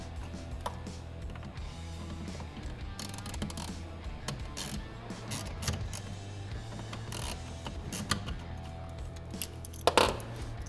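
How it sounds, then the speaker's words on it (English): Small T10 screws being backed out of a C8 Corvette steering wheel give faint, close ratcheting clicks and light mechanical ticks over a steady low background hum. "take some of these two little small screws out up here"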